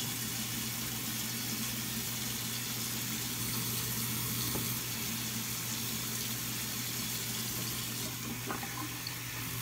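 Very hot water runs steadily from a faucet into a sink, a continuous close splashing rush that holds even for nearly ten seconds, with a few faint clinks near the end.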